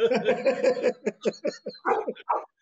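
Dogs bark and yip in a quick run of close, loud barks with short gaps, some higher whimpering yelps toward the end.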